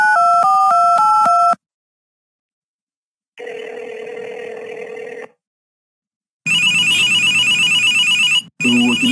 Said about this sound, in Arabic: هو تليفوني ده بيرن على العمال والبطال ليه؟